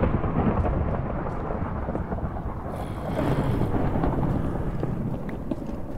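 Steady heavy rain hisses with a low rumble of thunder in a Minecraft game, a continuous dense wash of noise throughout with a slight swell partway through.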